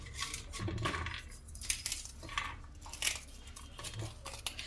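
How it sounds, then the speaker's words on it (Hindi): Roasted makhana (fox nuts) snapped apart by hand, giving a series of close, light crackling crunches and dry rustles in irregular bursts. "मखाने को इस तरह तोड़ लेंगे।"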